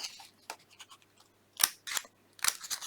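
Scissors snipping paper up close, trimming around the edges and cutting out window shapes for a paper fire-light craft: a series of crisp, sharp snips with short pauses between them.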